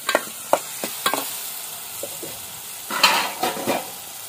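Ginger garlic paste hits a hot pan for Malvani prawn masala cooked on a wood-fired stove, a soft steady sizzle broken by several sharp scrapes and clanks of a spoon stirring against the pan, close and alone.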